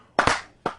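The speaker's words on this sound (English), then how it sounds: "She gets the slow clap." Three slow, deliberate hand claps ring out close and sharp, spaced about half a second apart, with no talking around them.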